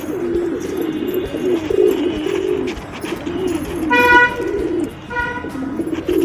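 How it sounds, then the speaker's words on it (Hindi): Wild pigeons coo in deep, rolling bursts close by at a home rooftop loft, repeated low throaty calls with short honking vehicle horns sounding in the background. "देखिए जंगली कबूतर"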